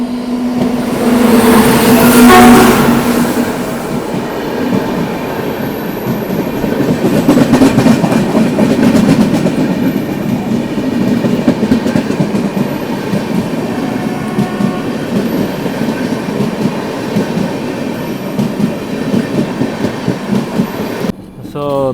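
The Janmabhoomi SF Express (12805, Visakhapatnam to Lingampalli) runs on rails with a steady, loud rumble and rhythmic wheel clatter heard from on board, swelling briefly near the start.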